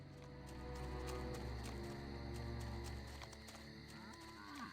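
Zombie cows in the video game Destroy All Humans moo loudly and repeatedly over dense game music and effects, a continuous layered bovine lowing throughout.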